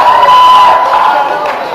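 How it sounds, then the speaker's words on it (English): An audience at a vlogger fair event cheers loudly in a brief burst, a whooping crowd roar with voices mixed in that fades slightly toward the end. "That got applause."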